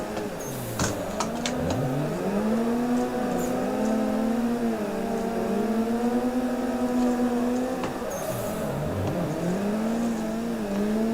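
A drift car engine in the Assetto Corsa racing game at night whines and revs in rising and falling sweeps as the throttle and gears change, with a few sharp clicks near the start.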